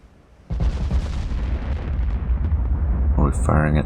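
Naval guns on a warship in Ultimate Admiral: Dreadnoughts fire with a sudden heavy boom, followed by a long deep rolling rumble; a voice speaks briefly near the end.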